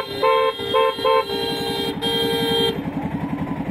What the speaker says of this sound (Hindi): यहाँ पे इतना जाम कैसे लग गया